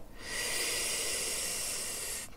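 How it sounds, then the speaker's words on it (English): A long, steady hiss of air is drawn through a rolled tongue in pranayama breathing, close and continuous for about two seconds before cutting off, with no talking. "All breath in and out through a rolled tongue."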